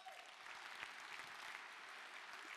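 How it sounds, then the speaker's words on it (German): Crowd at a German left-wing political rally applauds, a continuous, quiet patter of many hands with a few sharper claps standing out, heard from a distance at low level and without speech. "dafür sollte es nochmal einen ganz großen Applaus geben"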